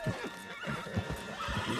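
A horse in the Red Dead Redemption 2 video game whinnies close by while its hooves clop in an uneven rhythm, all fairly quiet against faint game ambience.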